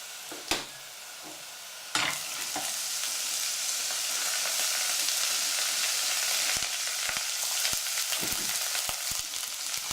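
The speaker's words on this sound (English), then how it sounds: "And now I'm going to add the split peas." Split peas tipped into a hot pot, a sharp clatter followed by a loud steady sizzle with occasional clicks of stirring.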